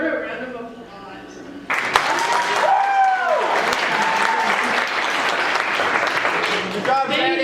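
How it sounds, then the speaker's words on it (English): An audience at a film festival breaks into sustained applause, a dense wash of clapping following a speaker's voice and lasting several seconds before talking resumes. "I just want to give her a round of applause"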